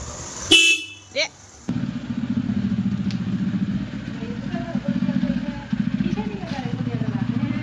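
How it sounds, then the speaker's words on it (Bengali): A motorcycle horn gives a couple of short honks, then a steady pulsing engine-like rumble continues for several seconds with faint bird calls in the background. "হরেন দিবো, এটা ইয়ে হরেন।"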